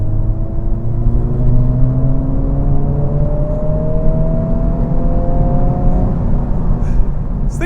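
2023 Honda Civic Type R engine revving hard after a downshift, its pitch climbing steadily through several long pulls over a constant road roar, loud and close.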